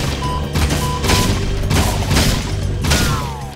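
Enemies fire a dense barrage of gunshots at the player in Jak 3, the video game. The sound is a loud, continuous fusillade of rapid bursts and booms with no talking.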